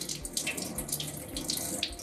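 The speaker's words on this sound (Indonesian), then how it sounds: "kita bilas juga dengan air mengalir secara singkat 2-5 detik" Steady stream of running tap water splashing over hands at a sink, rinsing briefly during a clinical lab staining procedure; continuous, close, and heard alone.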